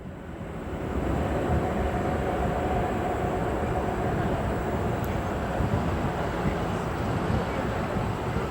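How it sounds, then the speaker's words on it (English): An aircraft passes over the field at O'Hare Airport, a broad steady roar that rises within the first second and then holds loud and even throughout. "This aircraft now overflying the field."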